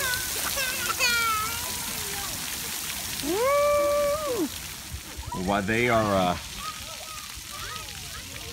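Water sprays and splashes steadily at a children's splash pad, making a constant background hiss. Children's high-pitched shouts and excited voices ring out over it.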